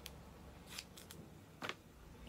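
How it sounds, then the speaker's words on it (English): Scissors snip through pieces of Gorilla Tape in a few quick, close cuts, crisp and brief against a quiet room. "I'm going to cut me some pieces of this Gorilla Tape."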